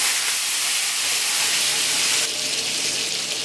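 Garlic hits hot oil and melted butter in a wok, giving a steady, loud broadband sizzle and hiss that continues without a break, growing slightly brighter near the end.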